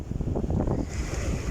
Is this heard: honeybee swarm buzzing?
no